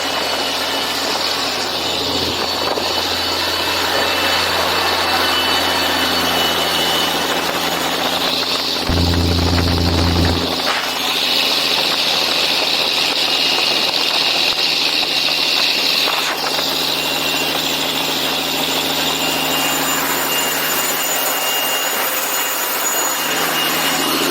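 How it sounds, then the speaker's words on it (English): A day cab truck engine idles with a loud, steady turbo whine and low rumble, briefly revving harder as the pitch shifts, then settling back into a continuous drone. "Gonna get out to the turbo real hard for you right now."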